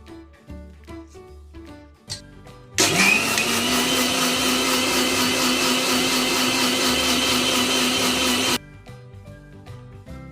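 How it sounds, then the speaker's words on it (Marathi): A mixer grinder runs loud and steady for about six seconds, grinding soaked rice and urad dal into idli batter, then cuts off abruptly. Quieter background sounds come before and after. "यानंतर आपण ते मिक्सर मधून काढून घेऊ।"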